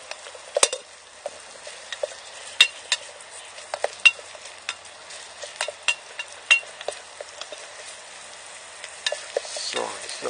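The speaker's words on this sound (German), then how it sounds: "das lasse ich jetzt glasig bis rostbraun anbraten" Food sizzles in a pan while a homemade spoon stirs it, frying until glassy and rust-brown. A soft constant sizzle runs under frequent sharp clicks and scrapes of the spoon against the pan.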